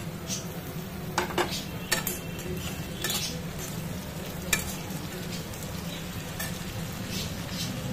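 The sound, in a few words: frying potatoes and tomatoes in a pan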